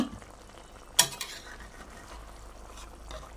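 Food cooking in a thick wok during a home recipe with egg, garlic, onion, chili and fish: a steady low sizzle with soft stirring scrapes, one sharp clatter of a utensil near the start, no talking.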